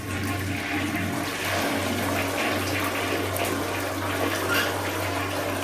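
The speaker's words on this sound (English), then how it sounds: "That's what you call a continuous flush." A hotel room toilet runs a long, continuous flush, a steady loud rush of water with a low pump-like hum lasting throughout, no voices.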